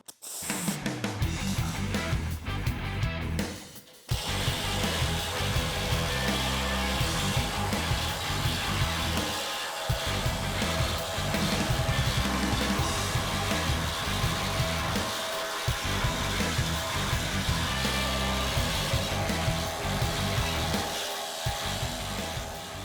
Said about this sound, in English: The needle scaler basically uses the tips of the steel needles to beat the living hell out of anything that's on the surface